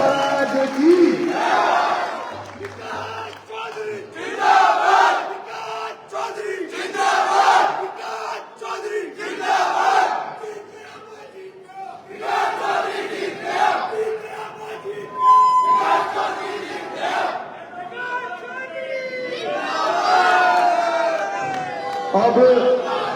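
A large crowd at a post-election victory visit to the Tejaji temple in Sursura roars, chants and cheers in rolling waves for over twenty seconds, loud and continuous, with voices shouting together in swelling bursts.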